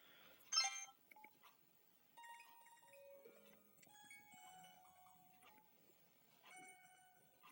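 A Sony Ericsson J120i mobile phone's message alert plays a short sequence of bright electronic tones in a quiet room, a melody with several clear beeping notes.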